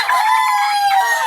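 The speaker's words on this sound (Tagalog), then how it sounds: "Kinakatay na yung manok." A chicken being slaughtered lets out one loud, shrill squawk up close, about a second long.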